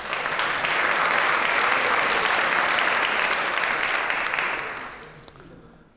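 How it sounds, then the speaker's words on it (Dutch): A crowd at a VR presentation event breaks into loud, sustained applause for the presenter, holding full for several seconds before fading out near the end. "Dus bij deze wil ik een hartelijk applaus vragen voor Dennis Vroegop."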